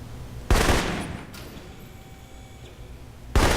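Two sharp, loud rifle shots ring out at a shooting range in the game Alpha Protocol, the first followed by a long decaying echo and quiet interlude before the second crack; no talking.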